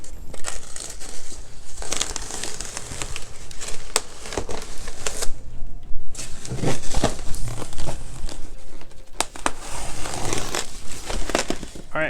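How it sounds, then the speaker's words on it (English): Tape is cut and a shipping box holding an AmScope microscope is pulled open, with steady crinkling and crushing of cardboard and packing material up close, plus a few sharp tearing bursts and occasional quiet voices. "we're just gonna try to cut the sides of this one and open it up here"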